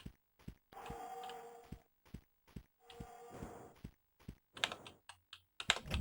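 Clicky keystrokes on a mechanical low-profile keyboard during an Alien Breed 3D speedrun, coming in sharp irregular bursts with short pauses, close and fairly quiet, with faint game sounds between.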